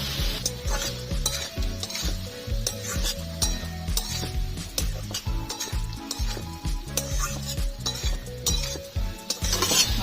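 Yardlong beans and boiled potatoes being stirred with garam masala powder in a pan, a spatula scraping and clanking in a quick repeated rhythm over a continuous sizzle, close and loud with no talking.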